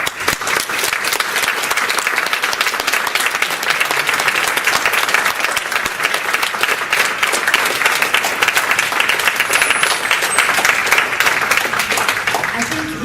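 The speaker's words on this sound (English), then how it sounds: "So I hope you'll give them all a great round of applause." An audience at a patient and expert panel event on Erdheim-Chester disease gives a long, loud, sustained round of applause for the medical professionals, thick and even clapping throughout.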